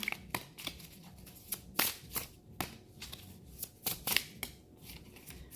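Brand-new tarot cards shuffled by hand up close, giving a series of sharp riffling bursts and soft slaps in an uneven rhythm with short pauses between them.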